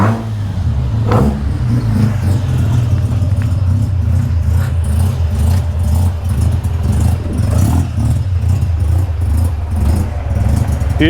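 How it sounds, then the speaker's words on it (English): A 1978 Mazda RX-7 Series 1 with a bridgeported 12A rotary engine runs loud and close, a rough, throbbing drone that swells and eases as it is revved throughout. "Beautiful Series 1 78 JDM Rx7"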